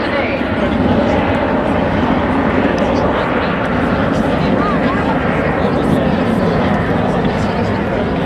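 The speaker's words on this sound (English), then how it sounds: "Coming at 270 knots there as it completes its final pass of the afternoon." Display jet aircraft on its final pass at an airshow, a steady broad roar holding loud and continuous throughout, with crowd noise and a commentator's voice underneath.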